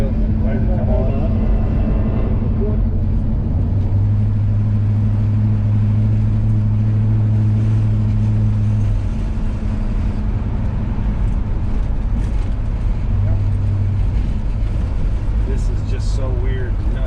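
A 1960 Dodge Dart Phoenix drives along with a steady low engine drone and road rumble throughout, and a person talks over it for much of the time.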